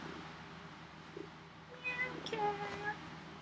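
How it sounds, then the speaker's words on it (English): A cat gives a few short, high meows up close, partly overlapped by a soft human voice. "Meow cat"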